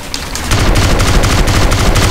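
Rapid automatic gunfire in GTA San Andreas, a loud continuous burst of closely spaced shots that starts after a brief lead-in and keeps hammering without pause.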